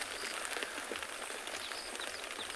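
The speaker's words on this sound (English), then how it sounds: "You can hear the rain falling on our roof." Rain falling on a roof at a safari lodge at sunrise, a dense, steady patter of drops hissing evenly overhead with no voices.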